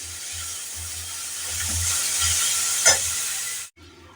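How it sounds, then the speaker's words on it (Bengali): Chopped banana stem (thor) stirred in a hot frying pan, a steady sizzle and hiss with soft scraping stirs, alone and close, ending in a brief near-silence. "থোরটাকে দিয়ে সামান্য একটু নাড়াচাড়া করে ফ্লেমটাকে আমি লো করে দিলাম"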